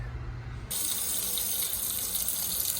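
Hot water gushing steadily from a household tap just after a power vent water heater replacement, a loud continuous broadband rush that starts abruptly and holds even, with no talking.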